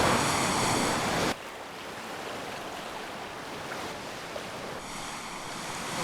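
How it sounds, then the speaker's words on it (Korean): Waves roll steadily against the Jeju coast with a continuous broad wash of surf, heavy wind rumble across the microphone at the start, then a softer, even ocean roar without voices. "파도가 잔잔해지고"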